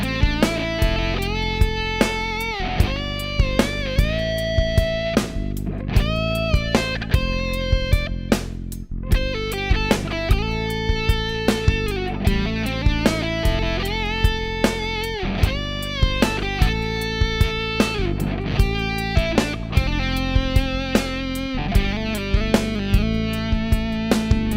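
Distorted electric rock guitar plays a fast lick mixing hammer-ons with picked and sliding notes, a bright lead line over steady low chugging, loud and close with no talking.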